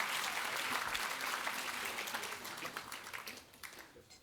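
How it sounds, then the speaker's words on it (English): An awards ceremony audience applauds the chef, dense clapping filling the hall and gradually thinning and fading toward the end. "she deserves a round of applause"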